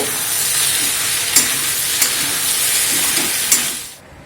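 Brinjal and potato masala stirred in a pan over loud, steady sizzling, with a few sharp scrapes of the spoon against the pan before the hiss abruptly stops.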